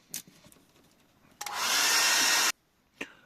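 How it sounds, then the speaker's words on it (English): A hairdryer switches on and blows steadily for about a second, then cuts off, with a few soft clicks and knocks around it. "one more blast with the hairdryer"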